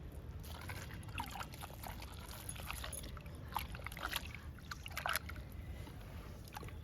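Cow dung is poured into a bucket, a quiet, wet trickling and splattering that comes in uneven bursts over several seconds against a low background hiss.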